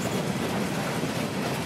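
A CSX mixed freight train rolls past nearby in Holland, Michigan, a steady rumbling roar of wagons on the rails with no pause or voices.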